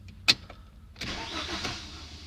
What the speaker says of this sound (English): I noticed this car's idle speed really run away up high as the car warmed up